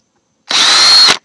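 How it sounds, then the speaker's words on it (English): A screw gun drills pilot holes into a PlayStation 2 plastic case in one steady, loud whirring burst of under a second, with no talk. "So I'm just gonna go ahead and drill at the pilot holes."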